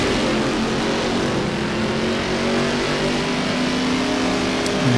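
A Ford Mustang historic race car accelerates up the top straight, its engine roaring loudly and steadily with rising harmonic pitch, a sustained near drone filling the whole stretch without any talk.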